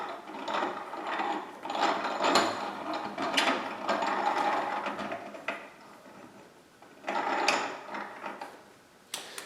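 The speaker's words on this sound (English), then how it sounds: "So we're going to screw our second cam system on." A Rotopax cam mounting system is screwed onto a rack, producing bursts of close, rapid ratcheting clicks that pause and resume several times.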